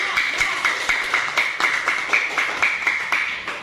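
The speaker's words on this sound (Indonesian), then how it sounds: "Silakan tepuk tangan untuk kelompok" A class of sixth-grade students in Indonesia claps for a student group, a quick run of sharp, even, rhythmic claps sounding close and steady for a few seconds with no talk.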